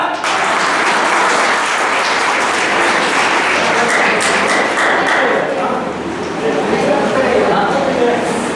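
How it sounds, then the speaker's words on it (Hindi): Lecture audience clapping loudly and steadily throughout, a dense continuous wash of hands with some voices mixed in. "तो ताली कौन बजाएगा?"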